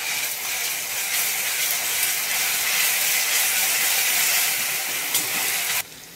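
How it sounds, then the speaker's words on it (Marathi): Ginger garlic paste sizzling in a hot kadai with onions, a loud, dense, steady hiss close up that cuts off sharply near the end. "आता त्याच्यामध्ये 1 चमचा अद्रक लसूणची पेस्ट टाकून घ्यायची आहे"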